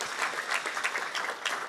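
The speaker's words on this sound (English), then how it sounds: "let's give Melissa another round of applause for that wonderful talk" A conference audience applauds after a talk at a tech summit, a brief burst of continuous clapping from many people heard at moderate distance without any voices.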